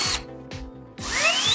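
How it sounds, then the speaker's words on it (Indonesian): A power drill with a thin bit whines in repeated bursts, starting and stopping, then boring steadily into a wooden popsicle stick with a rising pitch, close and loud. "Ambil mata bor tipis dan hati-hati bor stik es krim kayu."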